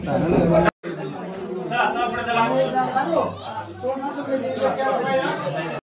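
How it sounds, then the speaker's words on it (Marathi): A crowd gathered at a Hindu temple for aarti fills the air with a dense, steady murmur of many overlapping voices, close and fairly loud, with a few nearer people talking over the din. "आरती भेटले म्हणून गर्दी आहे."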